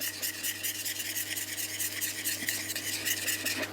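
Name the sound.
stirring sugar in a saucepan with a probe tip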